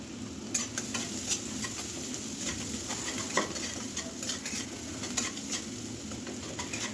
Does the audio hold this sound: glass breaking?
no